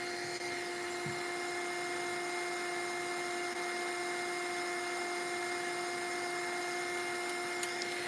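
A drying tool whirs steadily over mixed-media embellishments, a constant close electric hum with a high whine held for the whole stretch, with no talking.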